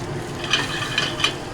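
Prawns with shallots and garlic frying in a pan, a steady close sizzle broken by three brief scraping clinks as they are turned.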